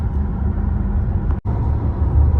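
Volkswagen ID4 Pure electric car cruising at about 110-120 km/h on the highway, heard from inside as a steady low road and wind rumble with one brief dropout.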